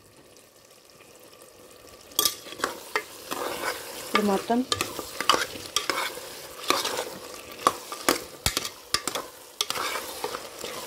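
Mutton curry, cooked without water, is stirred in a pan: a quiet start, then an irregular run of close, sharp scrapes and clacks over a low sizzle, with a short spoken phrase.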